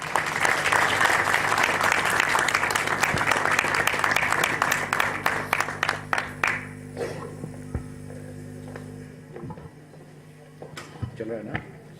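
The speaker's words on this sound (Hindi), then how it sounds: "आप सबकी जोरदार तालियों के साथ" Loud audience applause greets a state president invited onto the stage at a Ludhiana meet-and-greet event, dense clapping fading out after about seven seconds into room hum and a few scattered claps and bumps.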